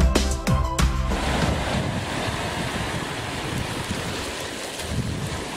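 Surf rolls onto a Queensland beach at sunset, a broad steady wash of waves mixed with wind buffeting the microphone, after a few brief knocks at the start.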